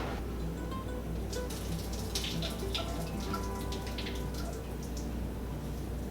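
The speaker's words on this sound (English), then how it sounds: "I'm gonna stir it and try to strain it again" Liquid trickles and splashes through a strainer while dynamites are cooked, a soft, continuous watery patter with scattered drips, fairly quiet and close.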